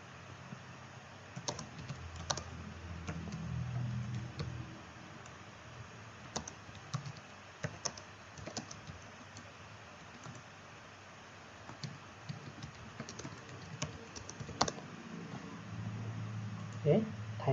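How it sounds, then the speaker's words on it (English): Fingers type text on a computer keyboard while a PowerPoint slide is being filled in: scattered, irregular key clicks, mostly quiet with a few sharper taps, over a low steady room hum. "Then we type something for second slide."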